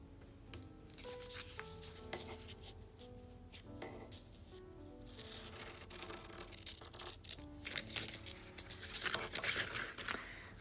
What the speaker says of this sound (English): So you can just use scissors for this.